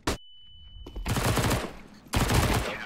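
Rapid automatic gunfire from an online team shooter match, loud bursts at the start and again later, with a long sustained stretch of firing in between and no talking.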